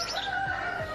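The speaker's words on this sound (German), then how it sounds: "Na guck, jetzt kräht der Hahn auch." A rooster crows in an animal enclosure at a zoo in Zwickau, a sustained, fairly faint drawn-out call over background noise, with no talk.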